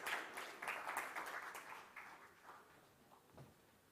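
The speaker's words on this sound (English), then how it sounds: "Please give a big round of applause." Applause from a conference audience in Dubai, fairly faint and distant, starting at a steady patter and thinning out as it fades over a few seconds.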